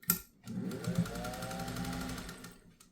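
A Singer 201 sewing machine stitches in one continuous, close run of whirring mechanical hum with a fast, rhythmic needle chatter, starting after a brief click and fading at the end.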